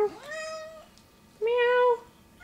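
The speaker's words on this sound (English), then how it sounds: "Kitty says, meow." Two clear cat meows close by, the first rising and drawn out, the second shorter and steadier after a brief pause, over faint background hiss.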